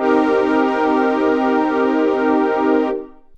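A self-made analog synth pad holds one sustained, harmonically rich chord with a slow shimmering movement, steady and loud for about three seconds before it cuts off and fades, with no voices over it.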